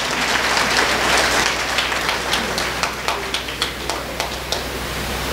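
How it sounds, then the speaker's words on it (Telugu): An audience breaks into applause, a dense wash of clapping that thins toward the end into a handful of distinct, separate claps. "ఇంక గట్టిగా చప్పట్లు కొట్టచ్చు కదా."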